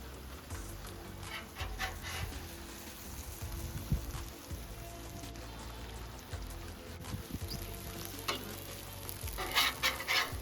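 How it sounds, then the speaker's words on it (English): Onions and American cheese cooking on a Blackstone 28-inch griddle, with a faint, steady sizzle and occasional light scraping, heard quietly and without talk. "we're gonna go ahead and let some of those onions caramelize"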